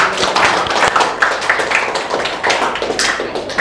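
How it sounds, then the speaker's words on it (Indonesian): Classroom students clap their hands together in a lively burst of overlapping claps with sharp taps, loud and close, continuing without pause for several seconds. "Tepuk tangan untuk kita semua"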